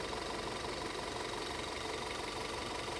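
A 2014 Audi A4 engine idling roughly with low oil pressure, running hot, giving a steady close mechanical drone with a faint uneven knock throughout, no voices.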